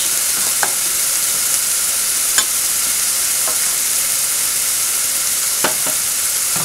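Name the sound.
sofrito frying in a pan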